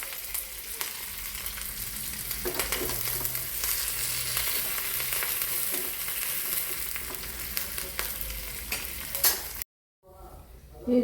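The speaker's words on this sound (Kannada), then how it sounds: "ಈಗ ಕರಿಬೇವು ಸೊಪ್ಪು ಹಾಕುವ ಸಮಯ ಆಯಿತು." Curry leaves go into a sizzling onion tempering for crab sukka, producing a continuous close crackle and hiss with stirring scrapes, then a sudden brief silence and a fresh burst of sizzle.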